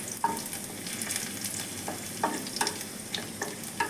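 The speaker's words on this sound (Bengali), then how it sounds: "এই যে একদিকে লঙ্কাটা ভেজে নিচ্ছি, একদিকে রসুনটাকে ভেজে নিচ্ছি" Dried red chili and garlic fry in oil in a wok, a dense, continuous close sizzle broken by repeated scraping stirs of a utensil against the pan, with no voices.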